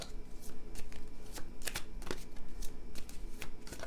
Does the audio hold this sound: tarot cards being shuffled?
yes